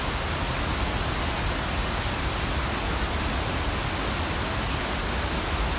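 Rushing water from a nearby waterfall roars as a dense, even wash of noise, steady and unbroken throughout.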